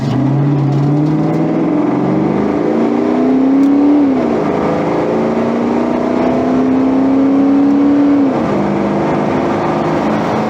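A Fox-body Ford Mustang 5.0 with an AOD automatic transmission accelerates hard through a 0-60 run. The engine drone is loud and steady, rising in pitch through the gears, with clear shifts around the fourth and eighth seconds and no talking.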